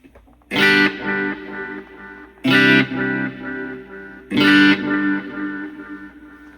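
Electric guitar through a Wampler Catacombs delay and reverb pedal with the mod knob turned up: three strummed chords, each ringing out into shimmering, wavering repeats and a reverb tail, played alone.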